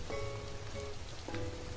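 Steady rain in a video game patters on a surface, with a couple of brief tonal chimes over the constant hiss.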